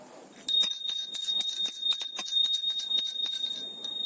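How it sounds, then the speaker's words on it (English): A small bell rings continuously and rapidly, a bright shrill jingling close by, held for a few seconds before stopping. "Can you hear this bell?"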